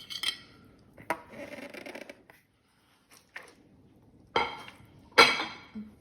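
Scallions and dill tipped into a dish of Kurdish-style stuffed grape leaf filling, heard as a few close clattering bursts of utensil on bowl and soft rustling, separated by brief quiet pauses, with no voices.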